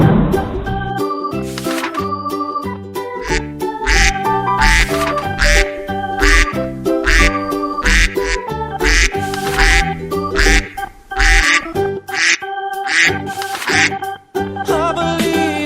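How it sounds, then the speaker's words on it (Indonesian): Farm duck quacks loudly and repeatedly in a fast, busy rhythm over music, the calls close and continuous throughout. "duck,"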